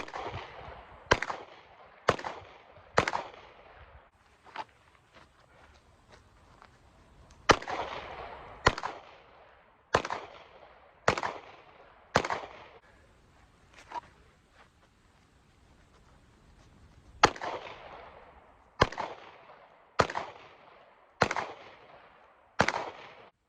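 Pistol shots fired by a shooter stepping while shooting at a range ring out as sharp, loud cracks, about eighteen in all, in uneven bursts of two to four with short pauses between groups, each followed by a brief ringing decay.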